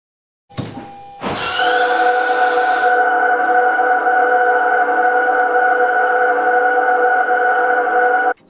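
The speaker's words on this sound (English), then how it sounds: "That's called vehicle proximity alert." Toyota hybrid vehicle proximity alert, a steady electronic hum of stacked tones that starts after two brief clicks and holds evenly for several seconds, close and alone with no talk.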